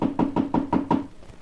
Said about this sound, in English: anxiously knocked at the door